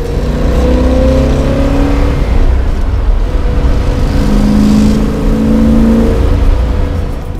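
A 1970 Plymouth AAR Cuda with a six-pack carburetor setup, smaller than a 440, gives a loud, steady induction growl up close, swelling twice as the revs rise and fall, with no talking.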